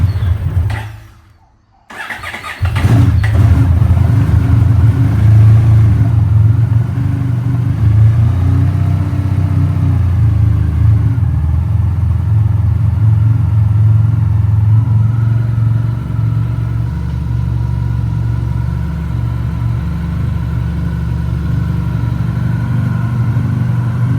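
Honda VFR1200X motorcycle engine cranks over after a brief pause, then fires and settles into a loud, steady idle with a deep throbbing rumble that runs to the end.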